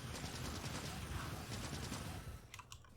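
Gun turrets in Factorio fire in rapid rattling bursts at attacking enemies, a dense fusillade under a low rumble, followed by a few sharper clicks near the end.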